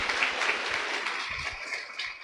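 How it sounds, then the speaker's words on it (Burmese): An audience claps together at a speaker's event, giving a dense, sustained round of applause that holds steady throughout. "အောင်မြင်နေတဲ့သူတွေလက်ခုပ်တန်လေးတီးပေးပါအောင်ခင်ဗျာ"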